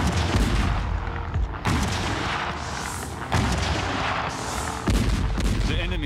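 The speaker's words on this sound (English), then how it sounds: "52 gigantic French siege guns would be devastatingly effective at that range. On the 10th of October, the Allies opened fire." French siege artillery guns of the American Revolution opening fire, heavy booming blasts in a loud, dense volley with several distinct thunderous bursts about every second and a half, no voices over them.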